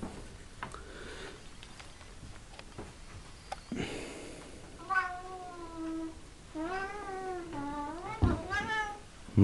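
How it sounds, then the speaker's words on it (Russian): A cat meows repeatedly indoors, a series of close, drawn-out complaining cries growing longer toward the end, with faint background noise and little talk. "Кот."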